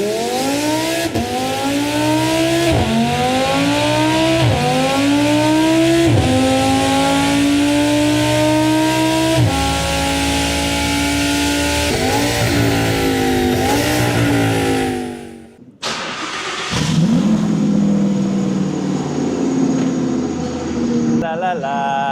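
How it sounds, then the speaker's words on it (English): A twin-turbo supercar engine with a faulty high-pressure fuel pump runs loud and uneven, repeatedly revving and dipping for about fifteen seconds, cutting out briefly, then idling again, close by. "It's running like a bag of shit, but can you hear that? Yeah? So it's that fuel pump. It's the high pressure fuel pump."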